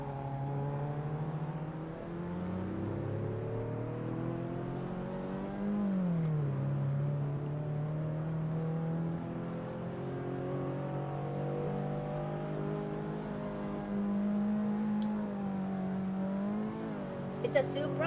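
A Supra driven in DayZ hums with a steady engine drone whose pitch climbs and falls through gear changes, staying moderate and even with no spoken voices over it.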